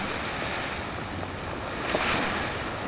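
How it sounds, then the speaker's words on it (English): Fountain firework spraying sparks during a backyard fireworks show at a house, a steady loud hissing rush that swells slightly near the end. "The fountain, it'll last long."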